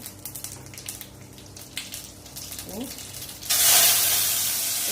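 Chopped onion dropped into a hot pan for palak rice gives a sudden loud sizzle that keeps going steadily after a few quiet kitchen clicks and rustles.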